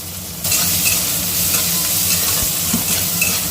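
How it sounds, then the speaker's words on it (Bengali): Onion and chopped green chili fry in hot oil in a wok, a close, steady crackling sizzle that starts after a brief quiet moment and continues unbroken. "এবার পেঁয়াজ লঙ্কা কুচি দিয়ে ভেজে নেব।"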